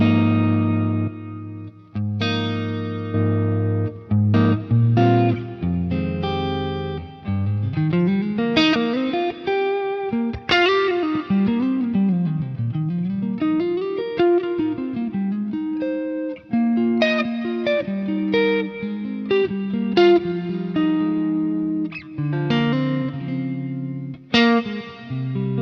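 Clean electric guitar tone from a Helix clean amp model with a boost engaged, sounding full and bass-heavy, with chords and single-note lines ringing out alone, touched with chorus and reverb.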